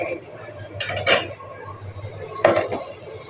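Metal lid set onto a cooking pot on the stove while cooking a prawn and sweet gourd dish, two separate clanking contacts with faint kitchen background between them.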